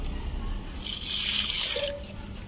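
Liquid peanut cake fertilizer is poured onto a rose plant in a garden, a short steady splash and trickle of liquid lasting about a second, close and moderately loud over a quiet background.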